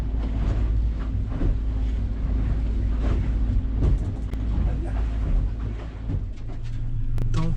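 Wind roars over a sailing boat cruising at about 5.5 knots with the breeze on the beam, a loud continuous buffeting rush with gusty swells and bumps of water and hull noise.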